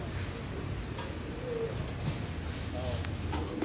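Pigeons coo repeatedly in a pigeon shop in İzmit, Kocaeli, with low, throaty calls close by over a steady background hum of the room.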